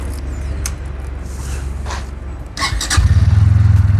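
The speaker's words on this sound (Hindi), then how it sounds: "बाइक जैसे ही स्टार्ट होती है," A Bajaj Pulsar N160 motorcycle cranks with a short scrape of the starter, then the engine catches and settles into a close, rapid, even idle putter.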